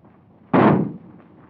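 A single shotgun blast from a 1939 black musical comedy drama, one sharp, loud boom with a brief decaying tail over a quiet background.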